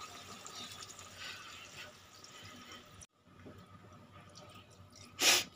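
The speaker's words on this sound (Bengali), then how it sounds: "এবার আমি অল্প পরিমাণে জল দেব।" Water is added to a pan of Bengali snakehead fish curry with raw mango: a quiet trickle, then a short pause and a brief, louder splash near the end.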